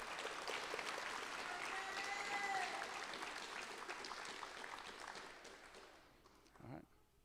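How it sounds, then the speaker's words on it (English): Students are applauded at a school board meeting: steady, dense clapping from the audience fills the room, then tapers off toward the end as a few voices come through. "give these girls a round of applause"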